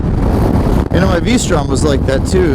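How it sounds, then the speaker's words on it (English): Wind roars against the microphone while riding a KTM 1290 Super Adventure motorcycle on a windy day, a constant loud buffeting rush under a rider talking throughout. "It's a really windy day"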